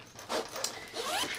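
The zipper on the main compartment of a Timbuk2 Showdown backpack is pulled open in two quick, close strokes, a sharp raspy zip.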